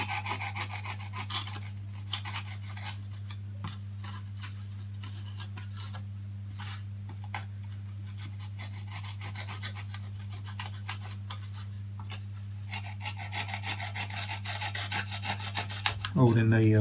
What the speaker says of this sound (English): So I'm just cutting out 1/4 inch slot all the way down.